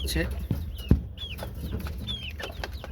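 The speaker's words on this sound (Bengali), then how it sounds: "আপনারা দেখতে পাচ্ছেন আমার মুরগিগুলা মনের আনন্দে খাবার খাচ্ছে" Chickens eating feed cluck in short, scattered calls close by, with faint background sounds between the calls.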